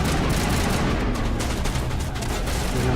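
Rapid gunfire from the video game Mass Effect, a dense, loud, continuous barrage of shots with rumbling booms and no voices.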